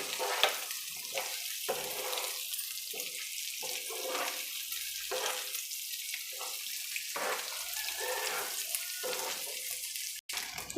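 Chopped boiled eggs frying with pepper, curry leaves and turmeric in a tempering, a loud continuous hiss of hot oil punctuated by repeated stirring surges, close up with no talking.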